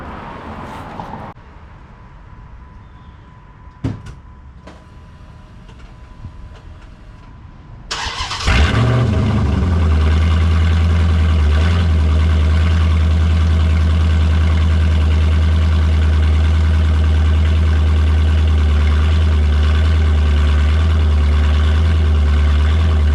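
A 6th-gen Dodge Charger fitted with new catted downpipes is started for the first time: after a few quiet clicks and thumps, the starter catches and the engine roars up loudly, then settles into a deep, steady, rumbling idle up close.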